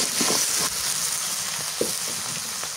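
Flat beans and potatoes sizzle steadily in a hot pan with chilies, onion and dried fish, a continuous close frying hiss with a few soft stirring knocks and no talk.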